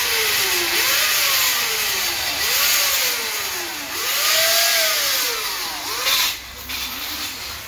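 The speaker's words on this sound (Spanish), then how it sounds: "Estamos haciendo, las perforaciones para poder asegurar esta prensa." Power drill boring holes to mount a press on a motorcycle lift platform, a loud whining motor that rises and falls in repeated swooping pitch sweeps as the bit bites and eases off.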